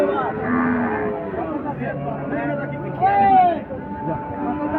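A Sahiwal cross cow at a busy cattle market lets out a short, drawn moo, heard close over a background of murmuring crowd and people talking.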